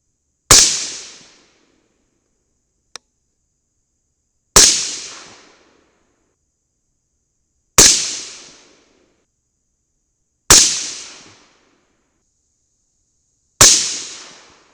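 Five sharp rifle shots from a 5.56 firing 75-grain Swift Scirocco II bullets over Hodgdon Varget powder, spaced a few seconds apart, each loud crack trailing off into a short echo, with a faint click between the first two.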